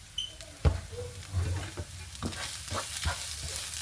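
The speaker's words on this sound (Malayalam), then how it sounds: "എല്ലാം ഇവിടെ ഒന്ന് വഴറ്റി റെഡിയാക്കി എടുക്കാം." Spices, turmeric and salt are sautéed in a pan for a Kerala thoran, with a soft sizzle broken by several sharp spatula scrapes and knocks against the pan, fairly close.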